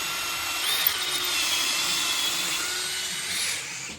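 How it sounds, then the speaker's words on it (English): A power drill bores out the end of a pin, a close, steady high-pitched whine that runs unbroken for about four seconds before easing off at the end, with no speech. "just drilling out the end of the pin"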